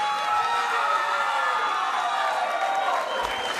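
A crowd at a Hawaii MMA event applauds and cheers steadily for the fight winner, a dense, sustained roar of clapping and voices filling the hall.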